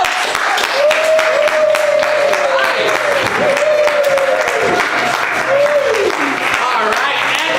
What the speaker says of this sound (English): hold the applause until the end